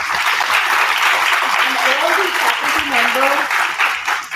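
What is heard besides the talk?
audience applause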